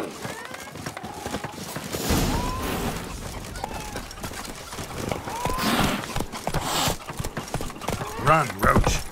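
Hooves of a horse clip-clop at a gallop across The Witcher 3 game world, a quick uneven rhythm of moderate loudness, mixed with game sounds and people talking.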